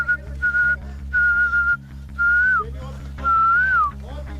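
A person whistles in short repeated phrases, some ending in rising and falling slides, to draw ostriches closer in South Africa, heard clearly over a steady low hum.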